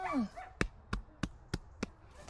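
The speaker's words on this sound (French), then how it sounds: "Le chien qui aboie" A dog barks five times in a steady, evenly spaced series of sharp, fairly close yaps, preceded by a brief whine, in a quiet setting around a mare in training.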